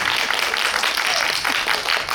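Audience at a Korean film screening Q&A (guest visit) with actor Jo Hyung-kyun applauds steadily, a dense continuous wash of clapping at moderate level throughout, with no talk over it.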